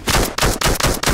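Rapid automatic gunfire in the video game Into The Radius 2, loud bursts of shots repeating in quick rhythm about every quarter second with no talking.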